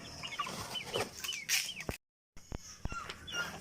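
Two young gamecock stags, packed in a large shipping box, give repeated close clucks and rising squawks with brief rustling and knocks, broken by one short silent gap midway.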